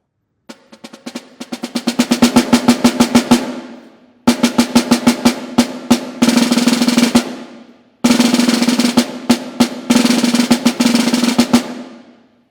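A snare drum plays crisp, evenly pulsed eighth- and quarter-note strokes that speed up into 6/8, then alternates steady pulses with short rolls in two loud, close passages separated by brief pauses.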